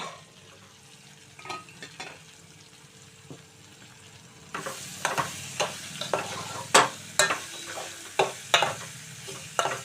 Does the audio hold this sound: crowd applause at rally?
no